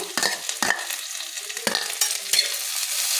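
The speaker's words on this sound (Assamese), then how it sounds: "এতিয়া ইয়াতে মই এই পিচি থোৱা আদাকণ দি দিছোঁ" Onions and ginger paste fry in hot oil, a continuous sizzle broken by several sharp scraping strokes as a spoon stirs the pan, close and fairly loud with no talking.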